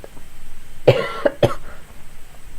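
A couple of sharp, close coughs during a drag makeup session, two distinct bursts about half a second apart, then quiet.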